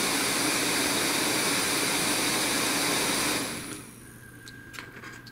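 A repaired MAMIBOT robot vacuum motor runs with a loud, steady whine for several seconds and then cuts out sharply, leaving a quieter background with a few small clicks and a faint lingering tone.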